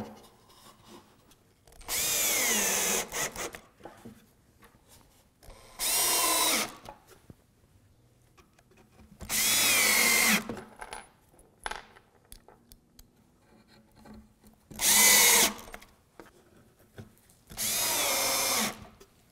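Power drill driving pocket screws into a wooden fireplace bookcase, heard as five loud whirring bursts of about one to two seconds each, spaced by quiet pauses with faint handling noise.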